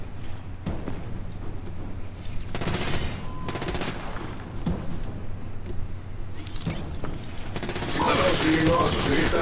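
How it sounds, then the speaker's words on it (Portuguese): Weapon handling and reloading in Gears of War 5, with metallic clicks and ratcheting mechanism sounds mixed with bursts of gunfire and bangs, busy and close, under occasional voices. "Recarregando o armamento."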